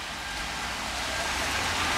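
Heavy rain falling in Frascati, Italy, a dense and steady hiss of downpour with a low rumble underneath, fairly loud and close.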